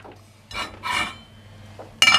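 Chopped zucchini and leek scraped and tipped from one pan into another after gentle cooking, giving a few short bursts of scraping and clattering against metal, with quieter gaps between.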